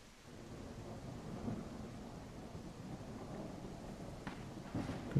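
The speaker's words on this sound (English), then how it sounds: "because the storm is loud" A thunderstorm in a video game brings steady rain with low rumbles of thunder building throughout and a louder roll at the end, moderately quiet.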